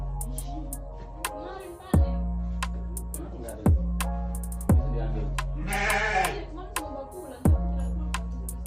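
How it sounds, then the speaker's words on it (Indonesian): A goat bleats repeatedly on a farm, several loud, wavering calls close by, with sharp clicks and knocks between them and a person's voice briefly in the background. "Ini juga kambing."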